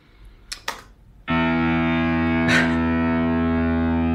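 A touch guitar played through a distortion effect: after a few quiet handling taps, a loud sustained distorted chord rings out thick and steady, with a brief pick scrape partway through.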